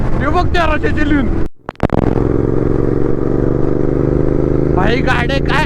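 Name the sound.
GT650 motorcycle exhaust while riding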